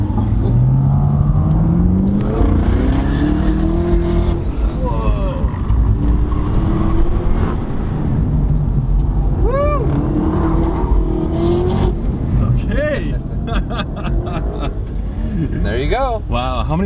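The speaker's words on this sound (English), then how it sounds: "We're in a 2019 Camaro ZL1." A 2019 Chevrolet Camaro ZL1 1LE, 650 horsepower, roars loudly from inside the cabin as it accelerates hard through rising and shifting gears, while occupants talk over the engine noise.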